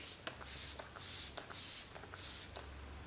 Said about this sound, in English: You have to shake it really, really well, and then I do a spray over there.